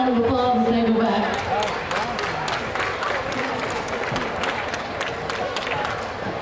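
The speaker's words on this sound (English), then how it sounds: "Give those kids a round of applause as they go back" Audience at a county fair event center applauding the kids as they leave the ring, a steady wash of clapping and crowd murmur with a voice speaking over the opening moments.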